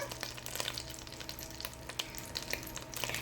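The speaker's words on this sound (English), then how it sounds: "I turned the heat up a little bit. I got more splatter, so I'm going to turn that down." Food frying in a hot pan with the heat turned up, a dense continuous sizzle with sharp crackling spatters popping throughout, close and steady with no talking.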